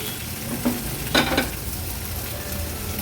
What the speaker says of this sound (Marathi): भेंडी ह्या मसाल्यांमध्ये आपल्याला परतून घ्यायची आहे